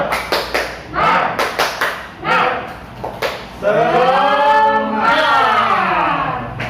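Rhythmic group clapping at an Indonesian training session: a crowd claps in sharp coordinated bursts with short pauses between patterns, then shouts together loudly, some claps landing over the chant.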